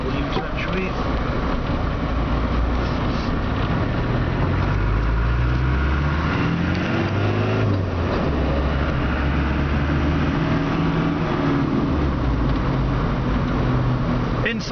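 A Land Rover 110 County Defender engine rumbles steadily throughout as the vehicle drives slowly round in a U-turn, with a low continuous motor drone and some road noise, while a person talks over it.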